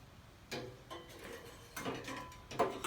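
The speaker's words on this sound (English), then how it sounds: "it slides into place, drops down, tighten the clamp" A welded bandsaw quick table slides into place and drops down, then a clamp is tightened, giving a series of faint metallic clunks and scrapes with a ratcheting rattle near the end.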